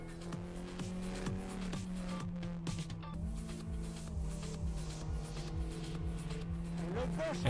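A Renault Clio Cup race car laps the Nürburgring, its engine revving hard through repeated upshifts and downshifts with a constant in-cabin drone, loud and close, tires briefly squealing.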